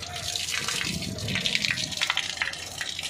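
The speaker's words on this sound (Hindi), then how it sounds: "देखिए कितना ब्लैक काला टाइप का पानी आ रहा है इसमें।" Water gushes steadily out of a blocked household pipe, a continuous broad rushing and splashing stream at moderate level throughout, with no clear voices over it.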